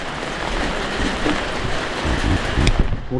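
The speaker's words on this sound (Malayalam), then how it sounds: "കനത്ത മഴ" Heavy monsoon rain pours down near a kitchen doorway, a dense continuous roar of falling water that swells slightly toward the end, with no talking.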